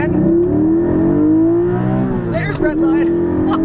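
A 2020 Porsche 718 Cayman GT4's engine spins up toward redline with a loud, steady, rising drone that holds, then briefly dips near the top as the revs break before settling again.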